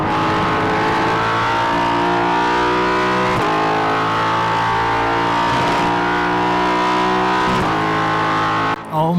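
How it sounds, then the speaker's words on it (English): A Ford Mustang GT4 race car's naturally aspirated 5-litre V8 in iRacing at Le Mans drones steadily with a harsh, buzzing tone, dipping briefly at gear changes before climbing again, loud and close with no talking. "an absolutely beautiful naturally aspirated 5-litre V8 producing over 500 horsepower"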